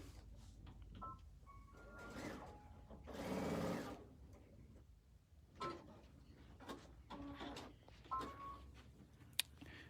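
A sewing machine stitches across a quilted table runner made from Northcott Bliss fabric in one loud steady run of about a second. Quieter clicks and handling noises come before and after, and no one speaks.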